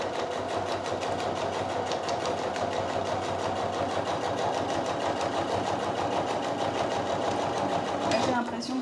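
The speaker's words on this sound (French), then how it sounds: "Je me fais un petit point avant-arrière. Et j'y vais. Je repars dans ma couture." A sewing machine stitches a seam on a fabric belt bag, whirring in a steady, fast mechanical rhythm for several seconds. The speed holds even throughout, with a brief change near the end.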